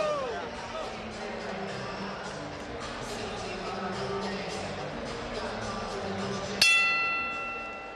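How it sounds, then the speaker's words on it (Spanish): A boxing ring bell rings out near the end of a pro title bout between Takashi Miura and Vandido Vargas, a sharp strike with a ringing tail over a steady crowd hubbub. "La campana de nuevo en acción."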